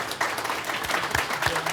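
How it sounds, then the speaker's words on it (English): An audience applauds panelists at a healthcare event, a dense, even patter of clapping that carries steadily through the short moment. "So let's give our panelists a round of applause."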